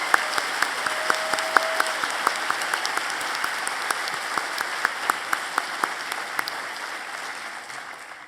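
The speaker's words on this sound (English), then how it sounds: "please join me in a round of applause for Cyrus." Audience applause fills a university convocation hall, a steady dense patter of many hands clapping throughout, gradually tapering slightly toward the end with no talking.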